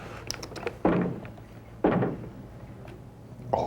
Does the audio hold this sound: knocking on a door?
yes